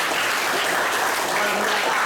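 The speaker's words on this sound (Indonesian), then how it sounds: "Tepuk tangan untuk Ubay" A classroom bursts into applause, a dense, loud burst of many hands clapping that fills the whole short stretch without letting up.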